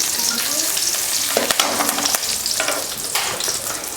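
Curry leaves crackle and sizzle in hot oil for a village-style tiffin sambar, a dense continuous frying hiss with brief spits and stirring, close and loud.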